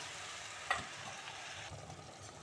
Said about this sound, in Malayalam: ಇದು ಹಾಕಿ ಚೆನ್ನಾಗಿ ಒಂದು ಮಿಕ್ಸ್ ಮಾಡಬೇಕು